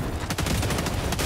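Turret firing in the Helldivers 2 shooter video game, a rapid burst of automatic gunfire with dense, evenly spaced shots close and loud, no voices.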